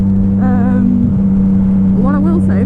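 Yamaha MT-09 SP motorcycle with an Akrapovic exhaust ridden on the road, a loud steady engine drone throughout, close and constant, with a rider talking over it.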